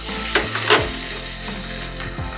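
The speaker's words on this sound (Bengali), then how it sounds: "পেঁয়াজগুলোকে সফট হওয়া পর্যন্ত ভেজে নিতে হবে।" Onions fry with ginger and garlic paste in a pan for beef tripe fry, a loud, continuous close-up sizzle with a few stirring scrapes near the start.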